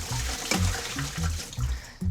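Rinsed grass jelly strained out of water, with splashing, pouring and trickling water in uneven gurgling bursts, close and moderately loud, without talk.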